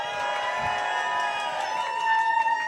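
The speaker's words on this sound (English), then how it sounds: "Big cheer for our Penny, thank you." A bar crowd cheers for a drag performer named Penny at a Drag Idol contest, a steady wash of voices and whoops under music, fairly loud and sustained throughout.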